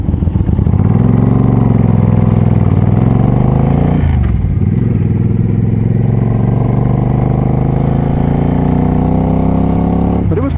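Steady engine drone of a Suzuki Boulevard 800cc motorcycle while riding, loud and continuous with a brief dip around four seconds, up close with wind noise.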